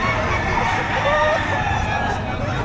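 Chickens at the Padre Garcia, Batangas livestock auction market cluck and crow amid a constant babble of people talking nearby, the birds close and loud over the crowd noise.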